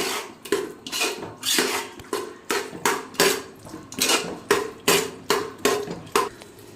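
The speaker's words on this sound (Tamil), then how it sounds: "இப்போ பட்டாணி எல்லாத்தையும் இதில் சேர்த்தாச்சு இப்போ இதை நல்லா கிண்டி விட்டுக்கும்" Peas are stirred in a pot of mushroom biryani, the spoon scraping and knocking the pan in a quick, regular rhythm of about two strokes per second. The sound is close and has no voices.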